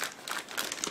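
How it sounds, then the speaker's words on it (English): Thin plastic bag holding parts of a 1/35 scale Tiger Model Nagmachon kit crinkles and rustles continuously up close, with several sharper crackling bursts across the second. "Just give me a second to open the plastic bag."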